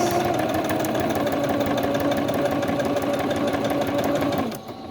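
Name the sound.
sewing machine straight stitching fabric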